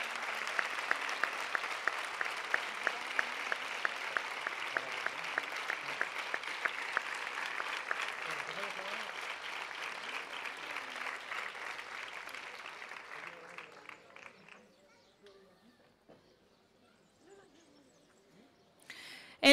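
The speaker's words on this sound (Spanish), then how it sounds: "Otro fortísimo aplauso." Sustained applause for honored students at a school community gala in Isla Cristina, dense and rhythmic clapping that holds strong for about thirteen seconds, then thins out and fades to near silence.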